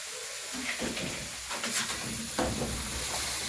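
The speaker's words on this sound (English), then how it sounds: "At this point, I'm going to add my beans, my haragwe." Beans dropped into a hot pan with coconut and stirred, a steady sizzle of frying food with scraping, stirring movements and a few soft knocks of the spoon, close and moderately loud, with no talking.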